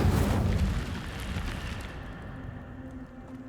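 Incendio fire spell cast in the Hogwarts Legacy video game, a loud low whooshing burst of flame that rumbles and slowly fades over a few seconds, with no voices.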